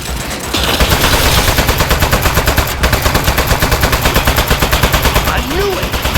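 Rapid automatic turret gunfire in the video game Aperture Desk Job, a loud sustained burst of evenly spaced shots rattling for several seconds with a brief break midway.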